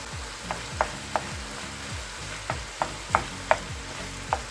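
Chopped onions go into a hot pan and fry with a soft, steady sizzle, while a utensil taps and scrapes against the pan in sharp knocks every half second or so.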